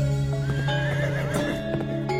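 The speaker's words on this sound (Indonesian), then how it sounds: "Mari Dimas Kenomo, kita pacu kuda kita biar cepat sampai di rumah." Horses gallop with a steady clip-clop of hooves and a whinny midway, set in a Javanese historical drama. A sustained musical drone runs underneath throughout.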